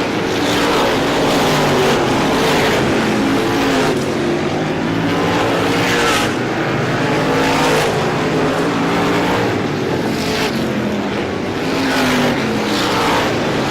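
Race cars roaring around an oval track in the ISMA Classic 150 at Star Speedway, loud continuous engine noise with repeated swelling pass-bys as cars sweep down the straightaway.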